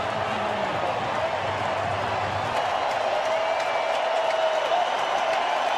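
A baseball stadium crowd at a 2012 NLDS playoff game between the Washington Nationals and St. Louis Cardinals cheers and applauds in a broad, sustained roar, distant and even for several seconds.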